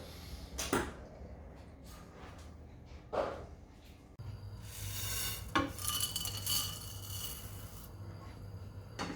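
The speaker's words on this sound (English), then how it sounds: "Now we're going to dry roast them and then we're going to grind them up as our spices." Whole cloves, cardamom pods and black peppercorns dry roasting in a pan over medium heat, scraping and rattling in a few sharp clinks and stirring bursts, then a steadier sizzling hiss later on, fairly quiet with no talk.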